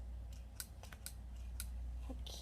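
Scissors cut through mermaid Barbie doll packaging, a few faint, sharp snips spaced irregularly over a low background hum.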